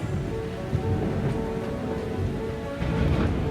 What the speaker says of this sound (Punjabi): ਬਿਜਲੀ ਚਮਕ ਰਹੀ ਸੀ ਅਤੇ ਬਦਲਾਂ ਦੀ ਗੜਗੜ ਦੀ ਆਵਾਜ਼ ਮਹਿਲ ਵਿੱਚ ਗੂੰਜਣ ਲੱਗ ਪਈ